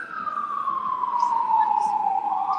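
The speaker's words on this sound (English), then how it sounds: "Hold on, we gotta let the sirens pass." A wailing emergency siren sweeps slowly downward in pitch as it passes nearby, loud and sustained.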